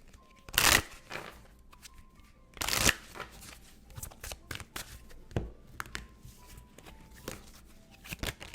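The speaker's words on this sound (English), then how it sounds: "A lot of cards are flipping out." Tarot cards are shuffled close up with soft papery riffles and taps. Two loud, sharp bursts come as cards flip out, with a quieter shuffle afterward and a faint hum under it.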